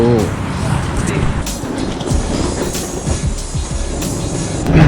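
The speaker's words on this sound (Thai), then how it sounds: "ตอนนี้ผมขึ้นมาอยู่ที่บนรถไฟแล้ว" Rumble and rattle fill the inside of a moving train in Thailand, with wheel and track noise, brief squeals and clatter continuing throughout, and some faint speech mixed in.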